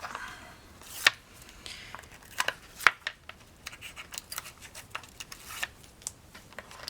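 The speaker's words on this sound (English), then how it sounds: "peel off all your score tape" Backing being peeled off score tape, a series of sharp crackling rips and small ticks, close and fairly quiet, with no talk.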